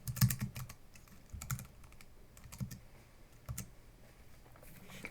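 Quick light keystrokes tap out a search on a computer keyboard, soft close clicks in irregular bursts and pauses, fairly quiet with no voices.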